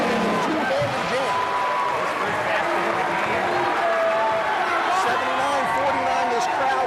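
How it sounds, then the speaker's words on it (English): A basketball arena crowd cheering and applauding loudly after a two-handed dunk in a McKendree University game, a dense, steady roar of voices and clapping throughout. "this crowd is on its feet"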